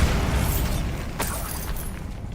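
A Bombarda blasting spell from the Hogwarts Legacy game goes off as a broad, rumbling burst with a sharp crack near the middle, set against a steady low roar, loud and close with no voices.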